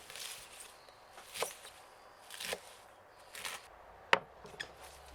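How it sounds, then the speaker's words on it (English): Mustard greens are chopped by hand, several separate soft knife strokes landing at irregular intervals, the last one sharper, with quiet pauses between cuts. "Meanwhile, we prepare the mustard greens."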